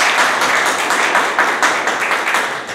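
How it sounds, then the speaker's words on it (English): A crowd claps and applauds for a Toastmaster speaker at a club meeting, a steady dense patter of many hands that carries on throughout the clip and tapers slightly toward the end. "can we have a huge round of applause for Toastmaster Harjinder?"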